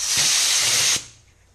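Compressed air from a hose hisses loudly and steadily for about a second while filling a bazooka-style tire bead blaster tank, then cuts off sharply, leaving a faint fading tail.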